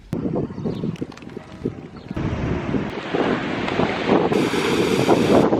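Ocean waves and wind at a beach, gusts buffeting the microphone and surf washing in, building from quieter rumbles to a loud, continuous roar.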